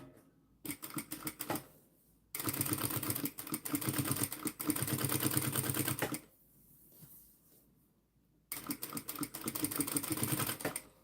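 A sewing machine stitches fabric in rapid mechanical bursts of several seconds each, separated by short pauses, close and fairly quiet, with no voices.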